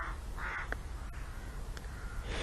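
A crow caws outdoors, a few short harsh calls at moderate distance over a steady background hiss, with no talking.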